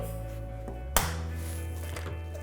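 An egg shell gives one sharp crack as eggs are broken into cheesecake batter, a single close snap set against a quiet background of steady hum.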